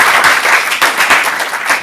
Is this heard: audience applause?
yes